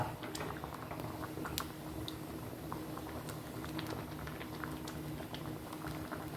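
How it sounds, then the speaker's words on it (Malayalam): Ash gourd and mango curry boils steadily in a pot, giving a continuous bubbling, simmering texture with small pops throughout, fairly quiet and close, with no voices. "നന്നായിട്ട് തിളച്ച് വന്നിട്ടുണ്ട്"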